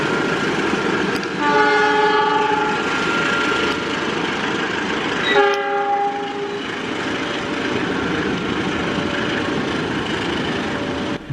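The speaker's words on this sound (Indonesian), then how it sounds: "Jalur 2 masuk kereta api Parahyangan So 31B berbarengan dengan berangkatnya kereta api Purojaya fakultatif" A Parahyangan passenger train arriving at a railway station, its horn sounding twice in long tonal blasts over a steady rumble of wheels and engine, fairly close and loud with no talking.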